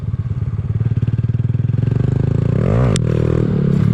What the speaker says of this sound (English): I'm gonna try a second gear clutch up.